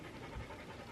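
A dog pants quietly after playing fetch. The quick, breathy rhythm is faint and sits in the background during a road trip across Montana.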